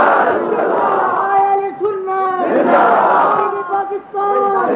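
At a religious gathering in Pakistan, a crowd shouts slogans in loud, rhythmic bursts of massed voices that swell and fall repeatedly.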